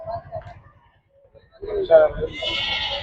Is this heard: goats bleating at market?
yes